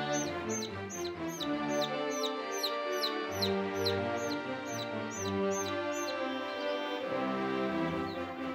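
Olive egger and Partridge Cochin chicks peeping together, a steady chorus of high, rhythmic cheeps close by with a continuous backdrop of softer chirping and no talk.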